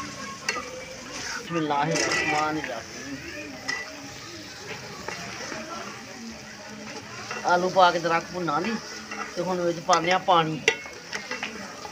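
Mutton sizzling and being stirred in a pot for aloo gosht curry, a steady hiss of frying broken by scraping stirs, with a voice talking over it on and off.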